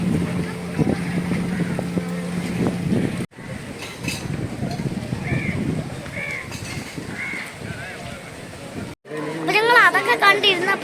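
A motorboat drones steadily on the water near Kurippuzha church, its low engine hum mixed with wind buffeting the microphone, broken by brief cuts and joined near the end by people talking.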